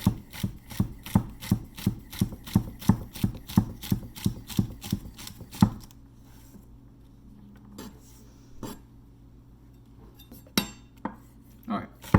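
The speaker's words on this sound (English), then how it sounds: "Now I'm going to cut them into long strips" A knife cuts celery into long strips on a board, a fast even run of crisp chops for several seconds, then quieter scattered knocks and clinks as the pieces are handled.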